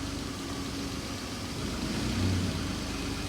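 A 1991 BMW 735iL engine idles roughly and unevenly, struggling to stay running, a steady close low rumble that swells briefly near the end, with no talk over it.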